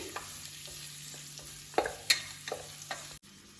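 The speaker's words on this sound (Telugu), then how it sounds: "ఆనియన్స్ కొంచెం గోల్డెన్ బ్రౌన్ కలర్ వచ్చినంత వరకు మంచిగా ఫ్రై చేసుకోవాలి." Onions frying in a pan for chicken yakhni pulao, a soft steady sizzle with a few scraping stir strokes, spoon clinks and light knocks against the pan, close and fairly quiet.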